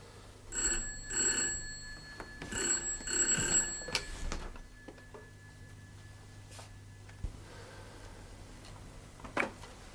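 An old-style telephone bell rings in two loud bursts of trilling rings near the start, then falls quiet with only faint room noise and a small click or knock near the end.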